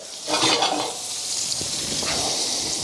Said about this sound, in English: When you're sauteing these vegetables, again, don't overcook them.